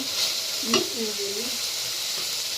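Bitter gourd palya sizzles in oil in a pan as it is stirred, a steady close frying hiss with a brief scrape, and a voice speaks briefly over it.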